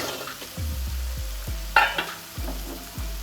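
Cooked bitter gourd drops into melted jaggery in a hot pan, giving a steady sizzle broken by repeated low scraping thumps of a spoon stirring, with one brighter clatter partway through; close and fairly loud, no voices.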